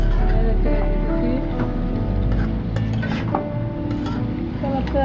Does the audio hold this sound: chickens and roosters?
no